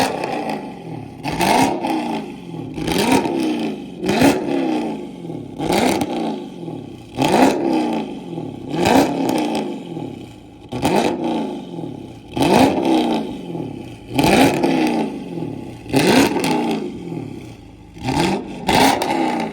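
Loud exhaust of a Dodge Charger Scat Pack with a Corsa Extreme cat-back roaring past repeatedly, about nine flybys at full throttle, each a rising then falling howl with popping and crackle.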